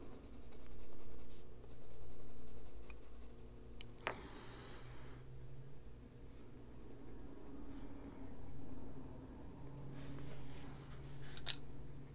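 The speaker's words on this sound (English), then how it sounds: "Take the gray pencil, go over the" A gray colored pencil scratches across paper, shading zipper teeth in an adult coloring picture, with soft close strokes in repeated back-and-forth bursts and brief pauses between passes.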